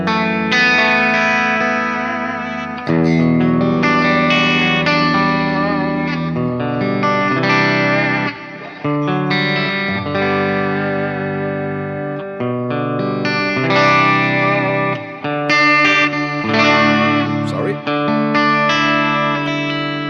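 Electric guitar played through a clean channel on a Fractal preset modeled on a Bogner Fish tube preamp, with a touch of delay and compression; chords and single notes ring out loud and continuous for about twenty seconds with no talking.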